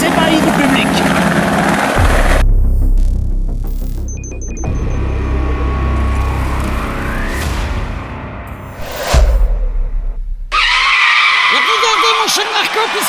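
A helicopter sound effect in a comedic racing audio sketch, with a thudding rotor drone among tire skids and car noises while voices speak over parts of it.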